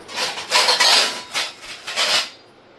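A metal griddle, wok and tongs clanking and scraping up close, several rattling knocks in quick succession as they are moved about.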